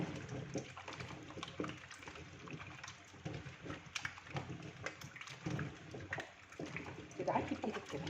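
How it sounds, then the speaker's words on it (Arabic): Taro is washed and rubbed by hand in a bowl of water, with close splashing, sloshing and scrubbing that keeps going throughout. "بعد ما الميه بردت هنبدا بقى نغسله كده غسله حلوه"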